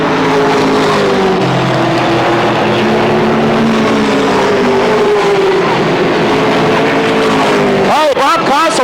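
Race cars roar continuously around a short speedway oval during a 1992 Motordrome Speedway event, loud sustained engine drone with rising and falling pitch as cars pass, and a car slowing drastically; a commentator talks over the noise.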